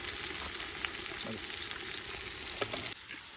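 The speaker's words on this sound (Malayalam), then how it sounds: "ഉള്ളി ഒന്ന് വണങ്ങി വരാൻ വേണ്ടിയിട്ടാണ്, ഒന്ന് മൂപ്പായി വരാൻ വേണ്ടി കുറച്ച് ഉപ്പിട്ട് കൊടുക്കാം." Onions frying with a pinch of salt in a pan for a chicken curry, giving a steady, fairly quiet sizzle throughout with a few soft stirring knocks, easing off near the end.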